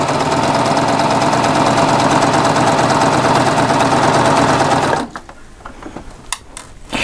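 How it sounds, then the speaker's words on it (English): Baby Lock serger stitching fishing line with a bead on a loop, a loud, steady, rapid mechanical whir running continuously for about five seconds, then stopping abruptly, leaving faint clicks and handling noises. "And I'm just going to stitch some."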